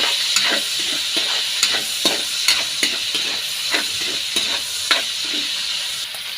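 Meat and vegetables being sautéed in a pan for pancit canton give a loud, steady sizzle. Regular scraping strokes of a spoon or spatula stir through it about once a second, with no voices.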